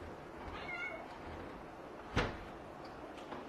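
Kittens give a few faint, high meows indoors, followed by a single knock-like thud, all quiet and close.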